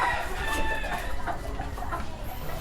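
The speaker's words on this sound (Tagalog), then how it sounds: "Ito ang gagamitin kong mga brood pullet." Chickens, brood pullets on a gamefowl farm, heard as a busy ongoing mix of clucks and crowing calls against steady farm background noise, moderately loud and without talk.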